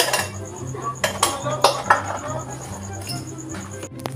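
A meal eaten from a plate with utensils gives a handful of sharp, close clinks and scrapes at irregular intervals, while a steady insect chirp carries on in the background.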